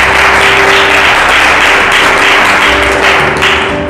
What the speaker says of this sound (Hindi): हालेलुया, ताली तो बजा दिया करो।